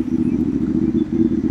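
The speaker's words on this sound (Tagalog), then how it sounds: "Oh, daming ang motor." Motorcycles, including Yamaha Mio scooters, run along a road in Upper Marikina, producing a loud, steady, close engine drone with a low throbbing rumble that holds for under two seconds without talk.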